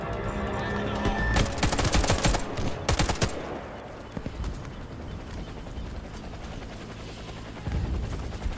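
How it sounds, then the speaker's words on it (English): In the Warface video game, bursts of rapid gunfire crackle loudly over the first few seconds, then a helicopter's rotor thrum continues steadily in the background, with another swell of noise near the end. "Helicopter is inbound."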